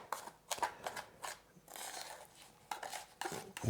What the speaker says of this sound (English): it needs about a couple of minutes stirring it around with your palette knife